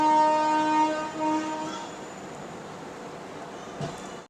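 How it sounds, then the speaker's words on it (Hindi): A passenger train running after leaving Vijayawada railway station: sustained horn-like tones over a rolling rumble at first, then only the duller, steady running noise, which fades away near the end. "तो अपनी ट्रेन निकल चुकी है विजयवाड़ा रेलवे स्टेशन से।"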